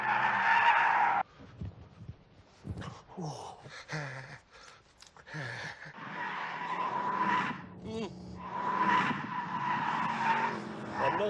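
A car in The Grand Tour Game brakes hard and its tires skid, with a long squealing screech that rises and falls over engine noise, and someone talks between the bursts.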